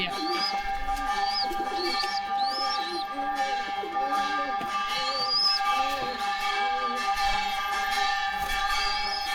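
Andhra or Madras pigeon chicks coo in low, rolling murmurs, with higher chirps from other birds over a steady background hum.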